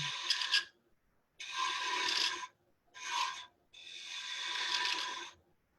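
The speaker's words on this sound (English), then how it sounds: "I'm going to switch over to my little spindle gouge, and I'm going to make a cove right in here." Four separate passes of a spindle gouge cutting a cove into spinning wood on a lathe, each a raspy scraping hiss of a second or so, with short quiet gaps between them.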